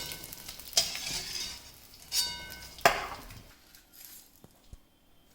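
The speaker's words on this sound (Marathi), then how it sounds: "तूप कडक तापवून घेतलेला आहे, आणि हा असा थोडा थोडा टाकून हा तळून घ्यायचा आहे आपल्याला।" Pieces of edible gum fry in hot ghee with scattered crackling bursts and a few sharp pops over a low sizzle that thins out toward the end.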